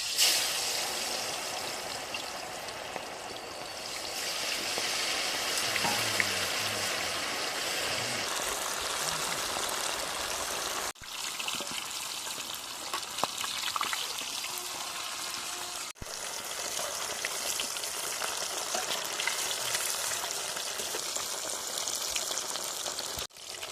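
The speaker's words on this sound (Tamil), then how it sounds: "இப்போ நம்ம மீனை போட்டு பொரிக்கிறோம்." Fish frying in hot oil in a pan at a village cooking session for a large fish biryani, a steady, close, loud sizzle that crackles continuously with a couple of brief dips.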